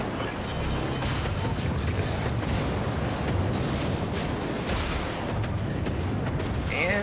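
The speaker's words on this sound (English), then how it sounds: "let's take some shots at the Kolberg with guns" Naval gunfire in World of Warships during a co-op battle: a continuous roar of ship guns and booms with rumbling sea ambience, steady and loud throughout, with a few sharper reports rising out of the wash.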